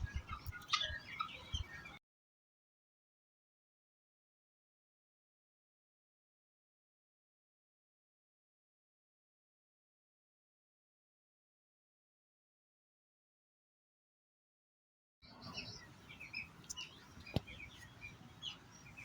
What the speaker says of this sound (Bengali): দেখলাম যে অনেক জাপানি জাতের কোয়েল পাখি উঠেছে হাটে